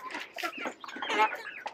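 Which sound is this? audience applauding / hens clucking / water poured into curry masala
hens clucking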